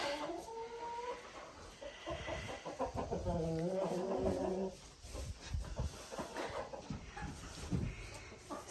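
Chickens and roosters cluck and squawk in a homestead coop during winter, with a run of close, loud clucking in the middle that eases into scattered, quieter calls.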